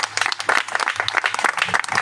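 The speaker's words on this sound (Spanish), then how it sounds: "Denle un aplauso al Señor." A church congregation gives a short burst of applause for the Lord during a service. The claps are dense and fairly close, and the burst lasts about two seconds.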